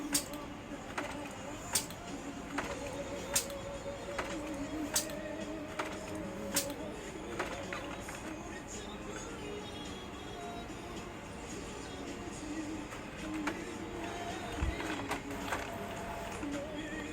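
An inkjet printer with a badly clogged black head runs a head cleaning cycle, giving a faint, continuous mechanical whir broken by repeated sharp ticks and clicks.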